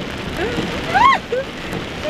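Rain patters steadily on a car on the road, a soft even hiss running under the whole stretch, with a few brief tonal squeaks from inside the vehicle riding over it.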